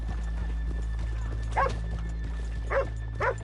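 In the video game Red Dead Redemption 2, horses stand by on a rainy town street, their hoof clops and snorts coming in a few brief bursts over a constant low hum and background hiss.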